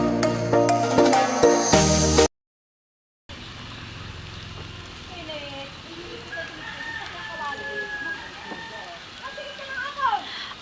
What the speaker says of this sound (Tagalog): dito po ay napatak po ang ulan